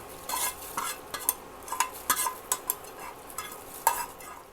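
Spoon stirring a sizzling tempering of dried chillies and curry leaves into erissery for a Vishu sadya, a run of soft scraping strokes and clinks over a low fry hiss, close and fairly quiet, with no talking.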